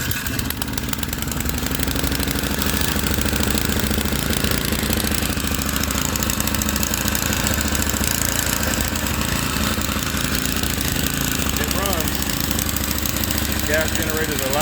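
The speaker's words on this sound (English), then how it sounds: "Gas generators are loud, but they work and it runs." A gas generator runs after a carburetor change, a loud continuous rattling engine drone with a steady knocking rhythm throughout.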